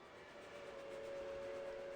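A steam locomotive's whistle from the game Reverse: 1999 holds a single steady tone, faint and distant above a low rumble and hiss of the train.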